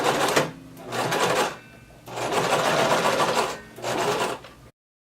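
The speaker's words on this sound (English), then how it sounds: "Begin sewing, back stitch." A sewing machine runs a 3/8-inch seam on a halter crop top, with a back stitch, in three close bursts of fast mechanical whirring separated by short pauses.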